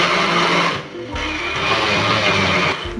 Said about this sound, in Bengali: সব উপকরণগুলো দেওয়ার পর এখন আবারও ব্লেন্ড করে নিচ্ছি।